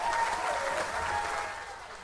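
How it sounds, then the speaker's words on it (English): Dense, steady audience applause fills a percussion concert hall after a piece, loud at first and easing slightly toward the end, with no talk over it. "Another round of applause for that."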